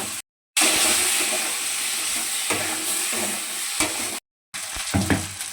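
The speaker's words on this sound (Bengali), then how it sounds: "মশলার সাথে এঁচোড়টা খুব ভালো করে কষিয়ে নেওয়া হয়েছে" Jackfruit sautéed with spice masala and yogurt in a pan, a steady close sizzle with irregular stirring scrapes, briefly cut to silence twice.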